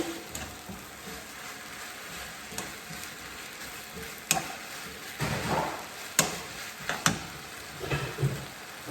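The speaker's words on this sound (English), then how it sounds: "let's get a couple of spring onions in there. Give that a little mix in." Vegetables and spring onions sizzle steadily in a hot pan while being stirred, with scraping and tossing sounds that grow busier toward the end, and no talking.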